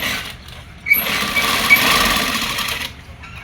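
A sewing machine stitches a seam on a kachera garment in one short burst, a close mechanical whirr that starts after a brief pause and stops near the end, with quiet surroundings.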